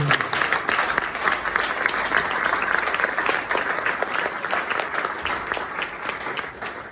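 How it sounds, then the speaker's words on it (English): Standing audience clapping for a speaker after a masterclass at a Dubai founders community gathering, a sustained, even roar of many hands with faint voices mixed underneath. "Stand up and clap."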